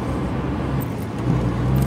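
An old Mercedes car with a mechanical fault idles with a steady low rumble and a faint rhythmic knock, running close by with no talk over it.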